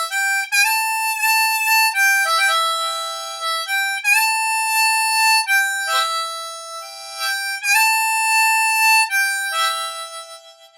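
An E harmonica plays the intro riff of a song, with clear reedy notes in short repeating phrases that step up and back down, played solo and close.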